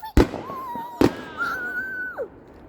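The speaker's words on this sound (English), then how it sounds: "Scruffy, look, fireworks." Fireworks crack out in two sharp bursts about a second apart, followed by a long, thin whistling shriek that slides down and fades; close and fairly loud with no talk.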